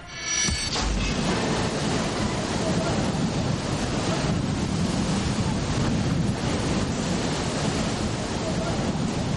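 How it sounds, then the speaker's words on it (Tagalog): Heavy surf from Manila Bay roars continuously, big waves crashing and churning against Roxas Boulevard nearby, with strong wind buffeting the microphone throughout. "Higante mga alon mula sa Manila Bay ang nasaksihang humampas sa gilid ng Ross Boulevard"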